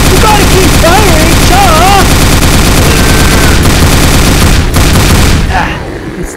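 A cannon fires in the Roblox Ghostbusters video game as a loud, relentless barrage of rapid blasts, with warbling tones mixed in early on, before the fire tapers off near the end.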